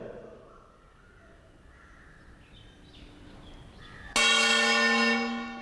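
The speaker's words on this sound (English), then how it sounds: "As I am striking the plate and holding it immediately" A metal plate is struck once near the end, ringing out bright and sustained after a quiet stretch, its tone fading slightly as it decays.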